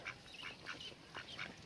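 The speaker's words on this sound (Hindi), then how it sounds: "ये छोटी बतखें" Small ducks at a cow dairy farm in Chakwal, Pakistan give a string of short, soft quacks, several calls in quick succession at a modest distance.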